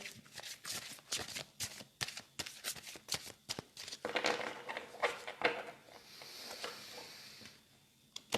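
A deck of tarot cards shuffled over and over, rapid close papery riffles and flicks in quick repeated bursts, then a smoother sliding shuffle, with no voices.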